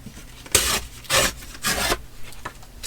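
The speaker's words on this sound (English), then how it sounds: "I'm going to just tear this into 3" Paper torn by hand into three pieces, heard as three or four short, close ripping bursts separated by quiet pauses.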